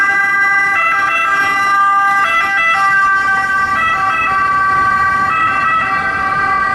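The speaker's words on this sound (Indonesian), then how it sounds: "Yuhu, keluarlah mobil ambulan." A toy ambulance plays a loud, close electronic siren that cycles steadily through a repeating two-tone wail about every one and a half seconds, continuous from start to end, with no talking.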